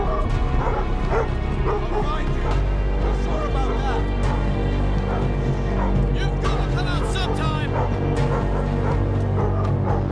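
A dog in the Thief video game barks and whimpers repeatedly and frantically, mixed into a dense, loud game soundscape with a constant low drone and occasional voices.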